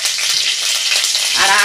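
Dry red chilies, whole cumin seeds and green chili sizzle in hot oil for Bengali khichuri, a loud, steady crackling hiss that runs briefly and evenly from start to finish, with no talk.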